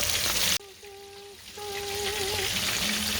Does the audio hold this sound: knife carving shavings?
no